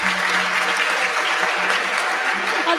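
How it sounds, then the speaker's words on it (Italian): An audience at a humanities event breaks into applause, a loud, dense, even clatter of many hands heard up close and without pause. "Un applauso."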